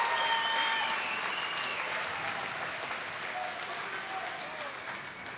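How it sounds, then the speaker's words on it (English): An arena crowd applauds after a women's MMA bout at a Valor fight event, while the judges' decision is about to be read. The steady wash of clapping fades slightly toward the end. "let's give these ladies a round of applause"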